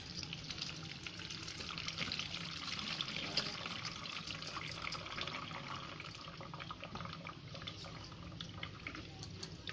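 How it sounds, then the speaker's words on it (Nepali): Cold tap water pours steadily over cooked pasta in a kitchen, a continuous close splashing and trickling rush with no speech. "अब थोरै चिसो पानीले पास्तालाई सबैतिर पखाल्नुहोस्।"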